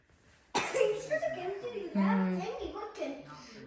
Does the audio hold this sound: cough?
yes